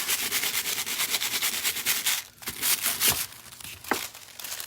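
Foil is rubbed and buffed onto adhesive by hand in steady, close, scratchy strokes, with crinkling and brief pauses, and no talking.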